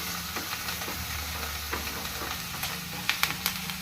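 Ridge gourd pieces frying in a pan as they are stirred, with a steady sizzle and occasional scraping clicks. The sound is continuous and moderately close, with no talking.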